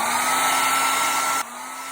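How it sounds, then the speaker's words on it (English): A hair dryer blows steadily while heating wax on a white pillar candle. The loud, constant whirring airflow drops to a lower setting partway through. "turn the hairdryer on again"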